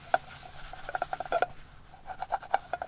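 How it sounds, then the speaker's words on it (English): Paper towel rubbing across a hot seasoned fry pan to wipe out excess oil, giving quiet scratchy swiping strokes in quick irregular bursts, close up with no voices. "and then wipe out the excess oil."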